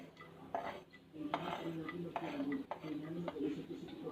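Garlic dropped into oil in a frying pan while cooking fish sotanghon soup, with clinks and scrapes of utensils against the pan and a soft sizzle, close by and moderately loud.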